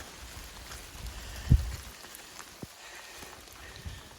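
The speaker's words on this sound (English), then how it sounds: "I think it's sprinkling." Light pattering of rain in Maine, faint and scattered, with a single louder drop or knock partway through; no talking.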